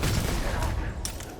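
Sustained gunfire from a weapon in the sci-fi video game Shattered Space, loud and dense, with a burst of sharper shots near the end.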